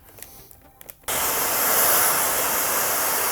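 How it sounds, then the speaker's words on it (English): After a second of quiet rustling, a heat gun or hair dryer used on a Hot Toys Tron Legacy Sam Flynn figure switches on and blows with a loud, steady hiss that continues to the end. "I am gonna have to implement the use of a heat gun or a hairdryer"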